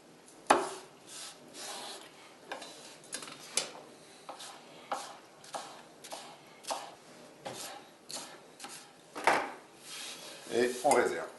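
Knife slicing rhubarb stalks lengthwise for a strawberry-rhubarb charlotte, giving a series of soft, close scraping cuts against a board, repeated at an irregular pace with no voice over them.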